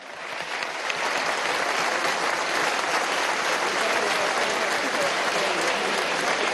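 A national constituent assembly in session breaks into sustained applause for a commission, a broad, even wash of many clapping hands that swells in and holds steady throughout.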